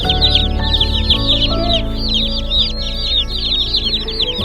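Baby chicks peep in shrill, rapid chirps throughout, close and fairly loud, with soft handling noises and a low background hum underneath.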